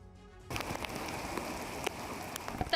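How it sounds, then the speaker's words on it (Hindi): Heavy monsoon rain in Mumbai pours steadily onto surfaces, a dense hiss with scattered louder drops that begins abruptly after a brief quiet start and continues without talk. "सुबह से ही कई शहरों में तेज बारिश हो रही है।"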